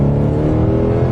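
Deep, steady engine roar of a Toyota Celsior, a Japanese JDM luxury sedan, heard up close as a loud rumbling drone with harmonic tones and no voices over it.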